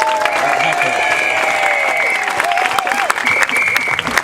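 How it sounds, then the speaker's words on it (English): A crowd at an anti-fracking rally in Yorkshire applauds steadily, a dense wash of clapping held at an even level for several seconds. "So a round of applause for everyone who made it happen."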